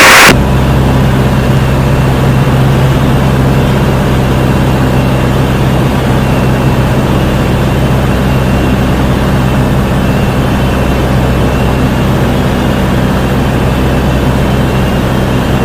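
Light aircraft engine in initial climb after takeoff from runway 23 at Besançon La Vèze, heard from inside the cockpit as a loud, constant droning roar that fills the whole stretch without letup.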